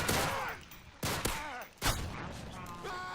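Handgun fire in Modern Warfare 3 survival mode on the Village map: three sharp pistol shots at uneven intervals, each followed by brief mechanical clatter and ringing, with no voice heard.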